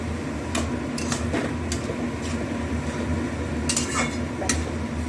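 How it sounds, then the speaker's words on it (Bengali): A spoon scrapes and clinks against a pot while cooked bottle gourd is stirred, with several sharp metallic taps over a steady kitchen hum and a low burner background. "এবার নাড়িয়ে চাড়িয়ে আবার ঢেকে দেবো।"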